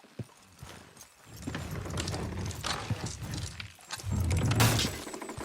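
Horses pull a load in Red Dead Redemption 2, their hooves clip-clopping steadily with heavy thuds and scraping over a continuous rumble, building louder toward the end.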